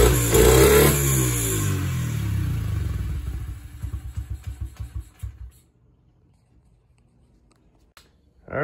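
A Honda CRF70 dirt bike engine revs loudly, then sputters through a series of rapid pops as it dies down, leaving near silence before a brief restart at the end.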